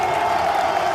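A crowd at a political rally applauds and cheers in a dense, steady wash of clapping, heard briefly and without a break.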